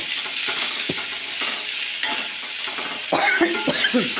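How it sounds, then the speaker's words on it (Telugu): Pieces of ridge gourd hiss and sizzle in a hot pan, with occasional scrapes and clicks as they are stirred. "బీరకాయ ముక్కలు వేసి ఇలా మగ్గ పెట్టాలండి"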